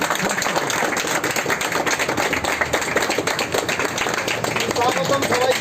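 An audience claps through a store grand opening, a dense stretch of steady applause running the whole length with voices mixed in underneath.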